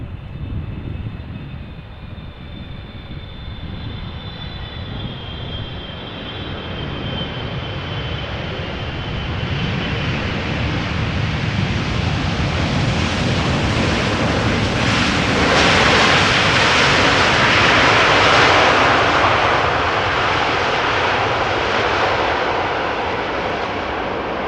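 Boeing 777 arriving at Amsterdam Schiphol from Doha on a showery day: a broad jet engine roar builds steadily over about twenty seconds, peaking loud as the airliner passes, with no talking.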